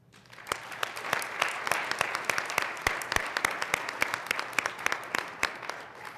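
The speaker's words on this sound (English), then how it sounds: "If you could join me in an applause." Applause for parents and families at a school board meeting: a smallish room of people clapping, individual hand claps distinct and fairly close, rising quickly and holding a steady uneven rhythm.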